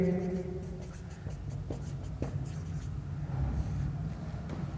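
Writing on a board during a classroom lesson: a string of short scratchy strokes and taps over a steady low hum, with faint speech in the background.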